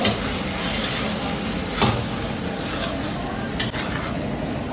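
Pieces of Padma river hilsa fish fry in a wok, a loud dense sizzle filling the clip with a couple of sharp stirring scrapes and knocks, and no one speaking.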